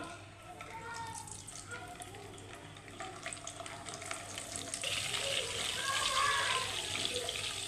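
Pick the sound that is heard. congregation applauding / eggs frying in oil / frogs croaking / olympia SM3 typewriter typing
eggs frying in oil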